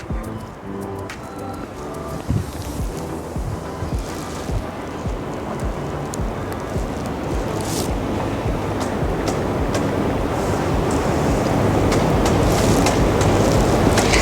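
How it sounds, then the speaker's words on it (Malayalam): A boat's motor drones alongside the wash of river water in Prague, the rumble swelling steadily louder as it draws near. "ആ ബോട്ട് വരുന്നു."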